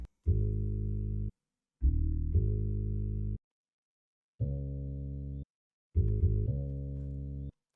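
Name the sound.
bass one-shot sample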